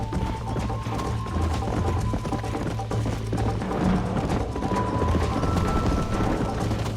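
Horse hooves clip-clop steadily in the Red Dead Redemption video game, a continuous rhythmic trot under background music and ambient game sound.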